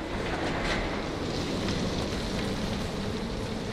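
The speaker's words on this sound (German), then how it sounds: "Aber wir haben gerade Gewitter bei uns." A real thunderstorm outside brings heavy rain in a dense, steady roar with a rumbling undertone. It stays loud and unbroken throughout, with no speech.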